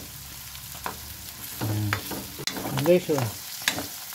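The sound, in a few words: sautéing squash (kalabasa) with pork in a pan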